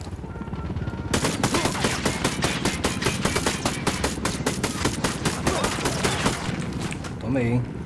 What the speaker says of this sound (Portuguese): Tomei muito tiro, irmão